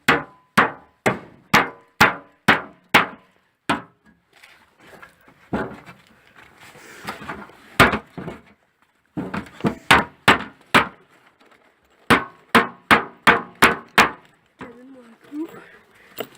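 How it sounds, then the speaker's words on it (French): Hammer blows drive a nail into wood in a series of sharp, evenly spaced strikes, a pause with quiet voices and shuffling, then another burst of rapid knocks, close and loud. "Donc là, on va mettre le clou dans ce trou-là."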